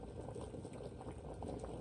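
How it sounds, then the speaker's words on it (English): Water boiling in a pot on an off-grid solar-powered home's stove gives a steady, faint bubbling simmer with no voices. "The water is boiling."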